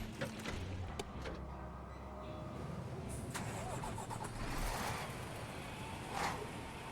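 A truck engine in the SnowRunner video game cranks and starts, then settles into a steady mid-pitched idle with a few light revs, heard close and alone.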